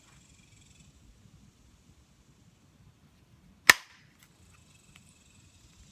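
A small stone nodule is struck once by indirect percussion in flint knapping: a single sharp, loud crack in near silence, with a brief tail and faint rustle afterward.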